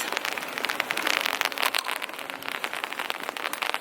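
Rain falls outside on a winter day, a dense, continuous patter of drops close by with steady crackling texture throughout and no voices.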